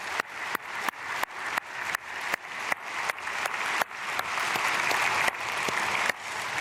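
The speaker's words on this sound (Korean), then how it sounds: "귀한 가정, 우리 축복의 박수 크게 보내겠습니다." A church congregation at a dawn prayer service claps a blessing for a family, steady dense applause from a large crowd, marked by regular abrupt dips and swells throughout.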